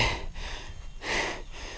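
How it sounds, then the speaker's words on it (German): Heavy, rhythmic panting after a long downhill mountain bike race, loud close breaths rising and falling in waves with no speech. "warum schnauft ihr so?"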